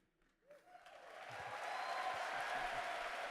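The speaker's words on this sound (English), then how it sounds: "Hold for applause." Applause at Gamescom Opening Night Live 2024 swells up from near silence into sustained, dense clapping from a large crowd that keeps building and holds steady.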